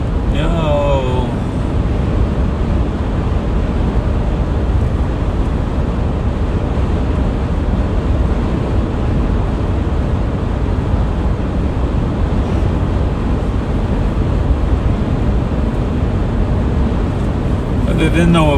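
Strong wind buffets a car during a drive downhill on an open road, a loud continuous rushing roar that fills the whole stretch without letup.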